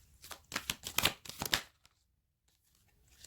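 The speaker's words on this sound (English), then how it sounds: "I'm just going to do a shuffle of these cards here" A deck of cards being shuffled, a quick series of crisp riffling bursts lasting about a second and a half, then near silence.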